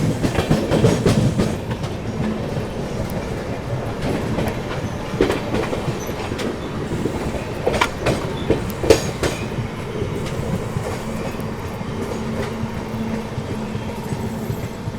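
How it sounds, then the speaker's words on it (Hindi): The Mahabodhi Express rolls into Sasaram Junction, wheels clattering steadily over the rail joints with sharp clicks and occasional squeals, loud and continuous throughout, with no voices. "ट्रेन अपनी जो है सासाराम जंक्शन अराइव कर रही है"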